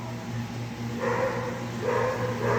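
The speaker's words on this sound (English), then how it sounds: "she's just barking like an idiot right now" A dog barks in short bursts at close range over a steady low mechanical hum in a farm building workshop where a Grizzly bandsaw is in use.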